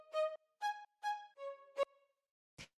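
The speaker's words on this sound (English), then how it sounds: "It's this little string one-shot sound." A staccato string one-shot sample plays a short future house lead phrase of five clipped, bright pitched notes, followed by a brief percussive hit, all clean and dry with no voice.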